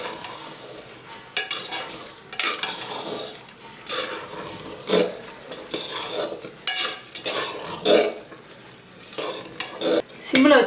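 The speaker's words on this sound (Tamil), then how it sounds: "வெல்லம் கரையிற வரைக்கும் கிண்டிக்கிட்டு இருங்க." A spoon scrapes and stirs sweet pongal with melting jaggery in a pot over a low flame, giving repeated uneven scraping and clinking strokes with soft sizzling between them and no talking.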